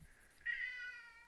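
A single soft, drawn-out meow comes from a house cat indoors. It is fairly faint and heard alone over a quiet background.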